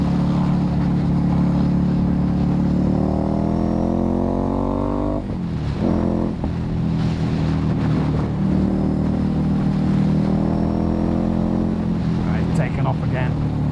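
A Ducati Scrambler motorcycle engine pulls hard on a test ride, its rising harmonic drone climbing in pitch, easing off and climbing again, steady and loud beneath a rider's voice.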